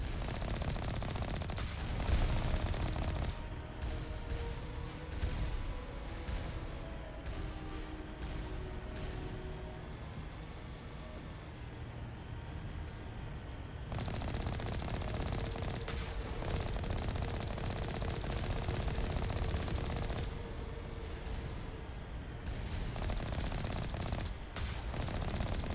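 Sustained automatic gunfire and scattered shots in Mass Effect Legendary Edition, a dense continuous battle din with bursts throughout and no talk.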